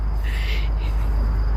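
Birds call in a park beside fishing water, a short high-pitched call rising briefly over a steady low hum of background noise.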